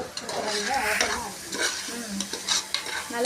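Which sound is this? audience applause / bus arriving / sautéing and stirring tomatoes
sautéing and stirring tomatoes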